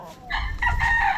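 A rooster crows loudly and close at a small gamefowl farm on a mountain, one drawn-out call that rises and holds steady over a low rumble of background noise.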